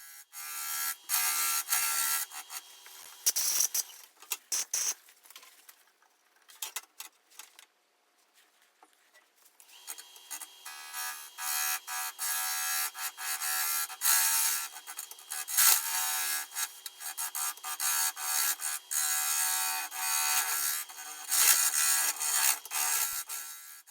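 A boring bar hollows out a wet maple crotch with bark inclusion spinning on a woodturning lathe, giving a loud, continuous rough hiss and scraping that drops away briefly in the middle before resuming steadily.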